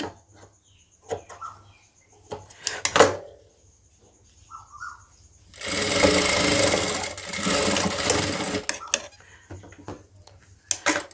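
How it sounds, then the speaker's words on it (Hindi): An electric sewing machine stitching blouse fabric runs in one steady, loud whirring burst of a few seconds, framed by scattered clicks and handling taps before and after. "सिलाई चला लीजिए"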